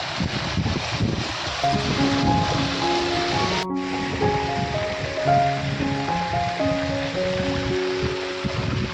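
Continuous rushing rainwater from a heavy storm flows loudly and steadily through a small channel on farmland, a dense broadband wash with no pauses and no voices.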